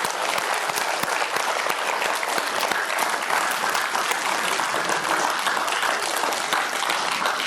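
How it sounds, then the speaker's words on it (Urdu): Audience clapping loudly for teachers at a class 10 results event, a dense, steady wall of applause from many hands that holds without a break from start to finish. "ان کے لیے ایک زوردار کلیپ کیجئے آپ"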